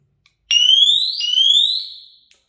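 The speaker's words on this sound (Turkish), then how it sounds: "buradaki butona basarak panik alarm verir" A loud electronic home security panic alarm from a Desi Midline WS remote-controlled system sounds alone, a rising shrill wail that briefly restarts mid-way, then cuts off after about a second and a half.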